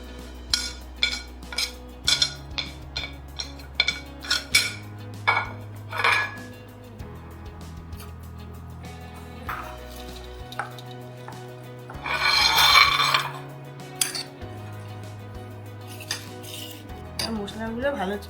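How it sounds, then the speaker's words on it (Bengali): A metal spoon scrapes and clinks against a pan while spices are stirred for homemade mango pickle, an irregular run of sharp knocks and scrapes, close and clear, with a brief louder rattle midway and no voices. "মশলাগুলো ভালো ভালো করে নেড়ে চেড়ে নিচ্ছি।"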